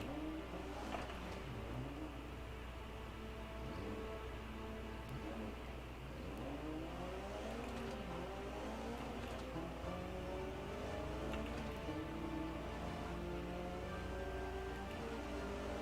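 Golf GTI rally car engine from Dirt Rally 2.0, droning steadily throughout with shifting revs and gear changes, mixed with rumbling road or gravel noise.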